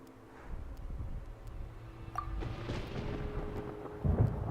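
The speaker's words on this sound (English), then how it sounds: "Paimon hears thunder!" Thunder in Genshin Impact rumbles low and steady in the distance, with a sharper crack partway through and a heavier roll near the end, heard alone.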